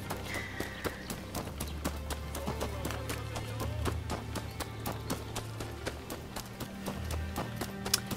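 Steady clip-clop of a horse galloping in the video game Rise of the Ronin, rapid hoofbeats repeating throughout over a low rumbling background.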